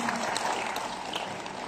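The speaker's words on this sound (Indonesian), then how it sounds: "Oke, tepuk tangannya untuk IAM Indonesia." An audience at a cloud network talk show applauds with a short, dense patter of clapping that is fairly close and even, with no talk over it.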